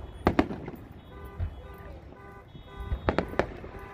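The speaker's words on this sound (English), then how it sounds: "But we're celebrating anyway. Some fireworks." Fireworks go off at Angel Stadium after a baseball game, with sharp, distant bangs and pops coming in small clusters over a low background rumble.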